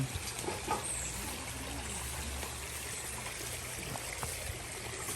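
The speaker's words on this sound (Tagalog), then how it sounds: "Ito pala yung tubig na yun." Continuous gentle rush of flowing irrigation water, steady and fairly close, with no talking.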